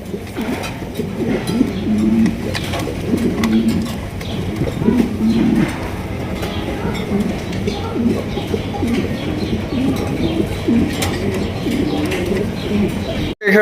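A loft of Indonesian pigeons, among them a jumbo-sized black pair, coos continuously in dense, overlapping low phrases that repeat in a steady pulsing rhythm, close and fairly loud throughout.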